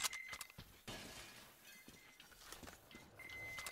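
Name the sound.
windows being smashed, from video game Metro Exodus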